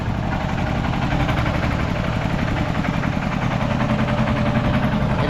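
A tractor engine runs at a steady idle near a flooded village area, a continuous low rumble with a droning throb and no voices over it.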